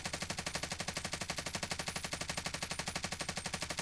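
Machine gun fire in Warzone, fired without attachments using a speed mag: a rapid, even burst of shots at a fast steady rhythm, loud and unbroken for the whole stretch with no talking.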